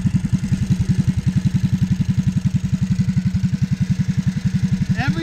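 A Coleman CT200U mini bike with its stock engine, stage one muffler, intake and bigger jets idles close by in a loud, steady, evenly pulsing chug, alone, with a brief scrape at the end.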